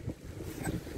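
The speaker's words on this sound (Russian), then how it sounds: "Ветер, кстати, не меньше не стал на грамм" Gusty wind buffets the microphone in a low, rumbling roar at the Desnogorsk reservoir, with a faint watery wash beneath it and no voices.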